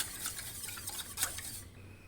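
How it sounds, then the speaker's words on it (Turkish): A spoon stirs baby yogurt soup (yayla çorbası) in a pot, giving soft, close scraping and light clinks against the metal in an uneven rhythm that fades out near the end, with no talking. "Mutlaka karıştırmaya devam edin."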